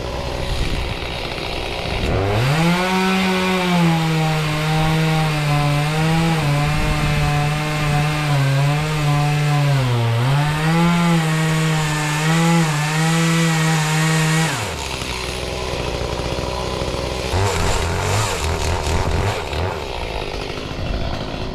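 Chainsaw cutting down a leaning conifer tree, its engine revving loud and close with a steady, slightly wavering pitch for about twelve seconds before cutting out, followed by quieter rustling and a brief low engine burble.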